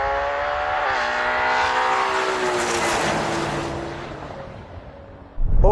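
A Ferrari Purosangue V12 SUV accelerates hard in a drag race, its engine note climbing through the gears with a pitch drop at each shift, loud and close before fading at the end.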